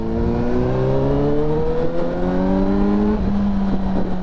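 A Suzuki GSR 600 superbike carries its rider along a hill road in Dhankuta, Nepal, the engine droning steadily and rising in pitch as it accelerates, close and loud over constant wind noise.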